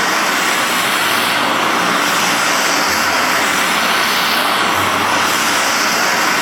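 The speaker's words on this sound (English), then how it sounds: "Here we are back on the old Corns borer with a little bit of metal munching" An old Corns horizontal boring machine cuts into metal in a workshop, giving a steady, loud, broadband machining roar that runs unbroken through the whole stretch with no talking.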